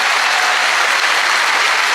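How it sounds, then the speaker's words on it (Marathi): Loud, dense crowd applause fills the whole stretch at a birthday gathering and poetry meet, steady and sustained with no pauses or talk. "एकदा जोरदार टाळ्या होत्या विचार मंचासाठी."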